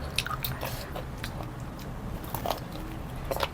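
Someone chewing a crunchy, spicy Thai salad of giant squid tentacles, with soft, close, repeated bites and crackly crunches and no talking.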